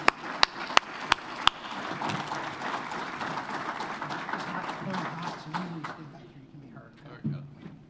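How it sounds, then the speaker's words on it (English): An audience at an electric cooperative's annual meeting gives a round of applause: a few sharp early claps build into a full, fairly loud wash that fades toward the end as a voice begins speaking. "Y'all give them a round of applause."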